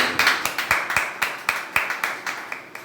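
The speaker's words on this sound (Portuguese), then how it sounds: "Uma salva de palmas bem bonita para Jesus." A church congregation claps in a steady, even rhythm of sharp handclaps, roughly four a second, close and clear with no talk over it.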